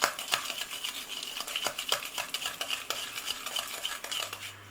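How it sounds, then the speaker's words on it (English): Butter and sugar are worked together in a bowl with a spoon or spatula, giving rapid, rhythmic scraping and clinking strokes that are close and fairly quiet, with no speech. "there's still bits of butter haven't been fully mixed, so we've got to really work it"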